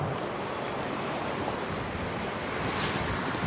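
Strong headwind on a cycling day roars steadily and unbroken, a dense close rush of air across the microphone with no pauses.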